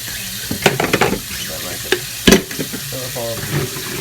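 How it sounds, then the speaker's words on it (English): Cold water runs and splashes while chicken waterers are filled, a noisy steady rush broken by clunks and knocks of handling. "so now I'm just going to fill them up with cold water"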